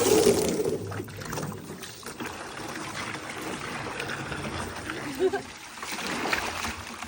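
Water drains out of a home hot tub as a steady, soft rushing flow, close by and fairly quiet, with a brief spoken word over it.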